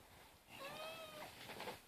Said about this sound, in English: Yeah, it's Pingu the cat